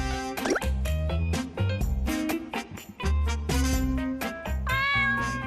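A house cat meows repeatedly and loudly, close up, in a rapid series of calls that fill the whole stretch.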